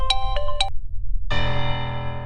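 A phone ringtone plays a short melodic chime pattern twice, then a brief pause before a sustained, bright ringing tone begins and continues loudly.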